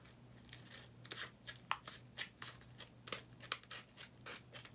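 Scissors snip through a cut-out paint stroke piece for a DIY plexiglass Mother's Day gift made with a Cricut, giving about a dozen crisp, close, fairly quiet cuts in an uneven rhythm over a low steady hum.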